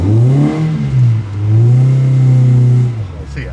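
A Toyota TE71 Liftback engine idles and revs up in rising, falling surges, loud and close, its low rumble settling before tapering off at the end.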